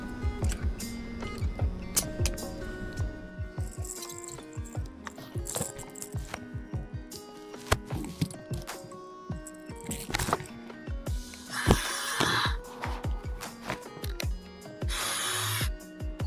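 A submarine emergency air breathing mask with a breathing tube is fitted on with rustling, clicks and knocks, followed by hissing bursts of air from the mask, close and fairly loud aboard a Virginia-class submarine.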